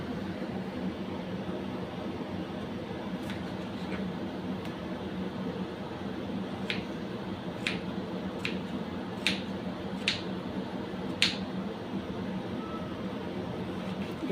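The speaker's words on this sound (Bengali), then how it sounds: "আলুগুলোকে খুব সরু সরু ফাইন করে কাটবো।" A knife slicing a potato very finely on a board for a kala chana curry, heard as a slow series of faint, crisp taps about a second apart over a steady background hiss.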